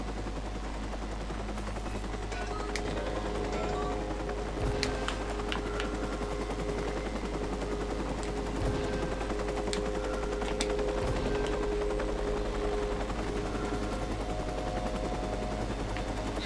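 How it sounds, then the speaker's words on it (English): In the video game Watch Dogs, a loud, constant helicopter rotor drone with bursts of rapid gunfire cutting through, steady and close throughout. "Maybe I can disrupt the helicopter and run."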